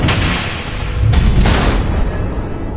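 Missile explosions in Batman: The Enemy Within, heavy booming blasts with rumbling low end, two sharp impacts rising out of a continuous roar, close and loud.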